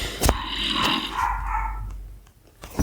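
A pet dog in the Minecraft video game gives a couple of short barks and a low growling whine, sharp yips at the start and end with a rough snarl between.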